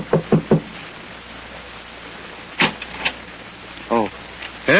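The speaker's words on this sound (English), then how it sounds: "knocks at the door of number" Several sharp knocks on a door open a radio drama scene, three quick raps at the start followed later by more scattered knocks, close and crisp, with speaking voices afterward.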